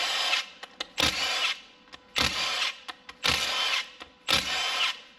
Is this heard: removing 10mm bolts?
yes